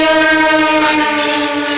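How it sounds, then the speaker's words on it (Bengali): An express train roars past close by on a rainy day, a loud continuous rumble with a sustained horn-like tone over it. "লোকাল ট্রেন আসছে।"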